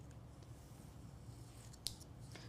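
Scissors trimming small pieces of a thin wooden Christmas stocking tag, a faint quiet room with one sharp snip standing out near the end.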